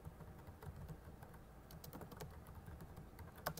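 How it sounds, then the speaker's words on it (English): Keys tapped on a computer keyboard while typing answers into a text box, quiet irregular clicks in short bursts against a faint background hum. "I'm going to type in possible answers"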